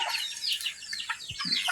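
A chicken clucks in a backyard vegetable garden: several short, sharp clucks in quick succession, fairly close but quiet, with no speech.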